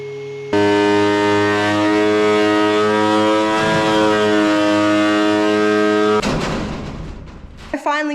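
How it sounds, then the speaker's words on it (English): A power planer shaves marri wood beams with a loud, steady motor whine that holds for about six seconds, then cuts off and winds down, followed by a few brief knocks. "Finally got through the first step, which was planing all my marri beams"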